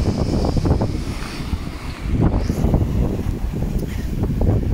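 Gale-force wind buffets the microphone at the North Denes seaside promenade in Lowestoft, Suffolk, while heavy waves surge and splash nearby in a continuous loud roar.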